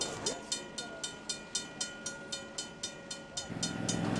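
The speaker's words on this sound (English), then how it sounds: "We're on the club's best train, our newest locomotive." Rhythmic clickety-clack of a miniature ride-on train locomotive rolling along rails at a model engineers' club, steady beats about twice a second, with a rising rumble toward the end.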